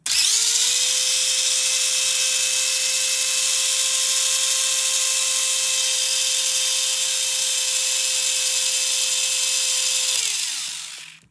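A high, steady electric motor whine with gear hum from a small race car, running continuously at close range before winding down abruptly at the end.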